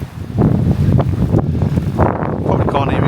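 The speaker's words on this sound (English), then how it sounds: "probably can't hear it because it's so bloody windy" Strong gusts of wind buffet the microphone on an open field with a van camping spot nearby, a loud continuous low roar and rumble that swells and fades throughout, with no clear speech over it.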